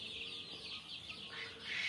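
Eighteen-day-old tiger chicken chicks on a farm peep in a continuous overlapping chorus of high chirps, close and steady, growing slightly louder near the end.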